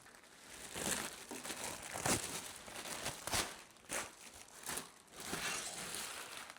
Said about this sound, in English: Ditch the plastic.